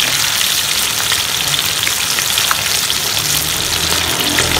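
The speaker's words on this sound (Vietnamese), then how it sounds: "tôm này cũng chiên hai nửa nữa các bạn, nó mới giòn này" Shrimp deep-fry in hot oil with a loud, dense, continuous sizzle and crackle close by, steady throughout and with no voices.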